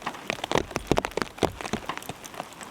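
Heavy rain falls on a forest campsite, a dense, continuous patter of drops striking nearby surfaces with sharper close splats scattered throughout, with no voices.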